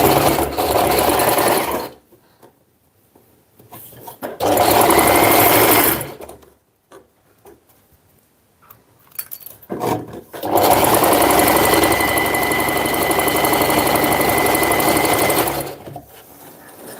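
A sewing machine stitches fabric, ending in a backstitch, in loud close bursts of fast mechanical whirring split by quiet pauses with soft handling clicks, the longest run coming near the end.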